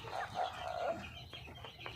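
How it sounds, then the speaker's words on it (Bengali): Chickens cluck steadily as a woman feeds her tiger hens and poultry on a farm, a dense close chorus of overlapping clucks and chatter with no talking. "টাইগার মুরগি পোলট্রি আছে, ওদেরকেও খাবার আমি দেই"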